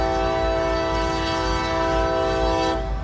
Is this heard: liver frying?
no